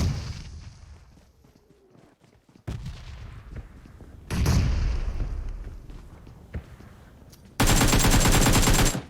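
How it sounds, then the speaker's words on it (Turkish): In the PUBG Mobile video game, loud grenade explosions boom and gunfire rattles in separate bursts, with quieter gaps between them and a dense rapid volley at the end. "Adam bomba atıyordu ya."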